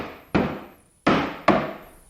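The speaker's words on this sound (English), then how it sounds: "I'll lightly tap down on the top to transfer those hole locations." Three light knocks of a wooden cabinet top pressed down onto dowel centers, each a short hollow wooden thunk with a brief ring-out, spaced irregularly and close by.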